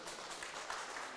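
Audience applause at a Korean local government policy convention talk show, a steady dense wash of clapping filling a large hall, held at even loudness throughout the short stretch.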